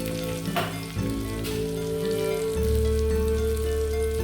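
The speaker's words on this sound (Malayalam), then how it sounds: "അപ്പോൾ നമ്മുടെ അയില ഫ്രൈ ചെയ്തത് റെഡി ആയിട്ടുണ്ട് കേട്ടോ. ഫ്ലെയിം ഓഫ് ചെയ്യും." Mackerel fish frying in oil in a pan, a loud continuous sizzle and crackle close by, with a few stirring clinks early on and a low hum underneath, and no voices.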